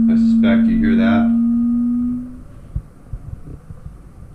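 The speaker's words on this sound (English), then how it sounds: "Probably hear a ton of motor noise right now." GoPro Hero 5 on a gimbal giving off a steady, loud motor whine for about two seconds before it cuts out, leaving faint wind rumble and soft bumps.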